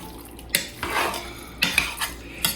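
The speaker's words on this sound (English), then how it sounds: "And then just stir it up." A spoon stirs turkey pot pie filling in a metal pot, scraping and clinking against the sides in a few close, fairly loud strokes, with no talking.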